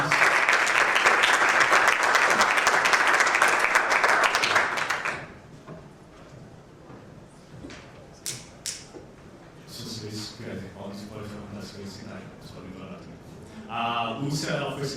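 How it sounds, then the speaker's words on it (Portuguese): A conference audience at Harvard and MIT breaks into loud, dense applause for about five seconds, which then stops abruptly, leaving scattered footsteps, taps and low murmuring voices in a large hall. "staria de chamar o palco a Lúcia Belmanello, por favor, uma salva de palmas."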